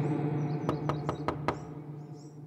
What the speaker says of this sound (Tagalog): biglang may kumatok sa pintuan ng bahay ko